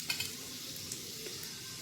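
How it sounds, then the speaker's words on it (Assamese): Panch phoron seeds crackle and sizzle in hot oil in a kadai, a steady close hiss with a few sharp pops near the start and no voices. "পাঁচফোৰণকেইটা ফুটি যোৱালৈকে দি লৈছোঁ।"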